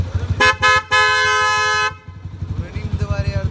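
A Minda horn fitted to a Kawasaki Ninja H2 motorcycle gives a few short, loud blasts, then one sustained honk up close, followed by the bike's low engine rumble.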